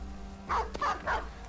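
A dog in the Battle Brothers video game barks three times in quick, evenly spaced yaps, moderately close and clear above a faint, steady background hiss.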